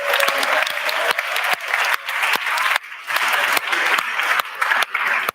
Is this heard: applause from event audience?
yes